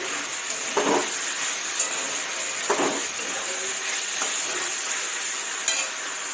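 Potatoes frying in a pan for aloo posto, with a steady bright sizzle throughout and a few louder scraping stirs, close up, no talking.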